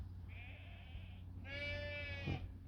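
A sheep bleats twice beside the River Severn in Shropshire, a thinner cry followed by a louder, wavering one, fairly close, over a low steady background rumble.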